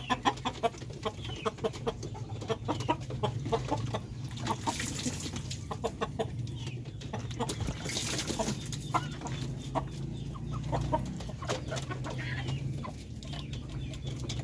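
Darag native breeder hens clucking steadily, with repeated cackles and a rooster-like call rising over a constant low farmyard hum, fairly close and continuous throughout.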